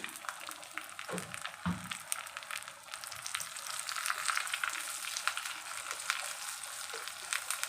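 Whole garlic fries in the tempering for a moong dal and spinach dish, a steady crackling sizzle close by, broken by a few stirring knocks against the pan.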